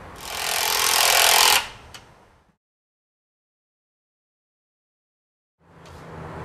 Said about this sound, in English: Now screw the posts to the ground spikes using 14 gauge hex head galvanized screws.